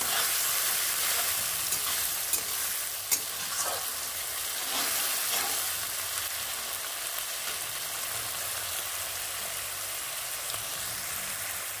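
Washed, cleaned prawns frying in a pan make a continuous crackling sizzle for several seconds, with occasional sharp pops and spatters and a few stirring scrapes, close and steady with no one speaking.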